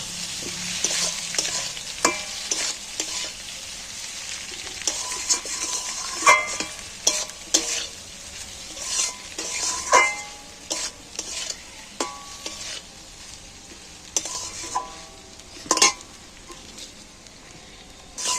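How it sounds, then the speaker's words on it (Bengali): Eggs dusted with chili powder fry and sizzle in a pan while being stirred, a steady close crackle broken by frequent sharp spatula scrapes and knocks against the metal throughout. "এইবার আমি একই সাথে একটু নাড়াচাড়া করে ভেজে নেব"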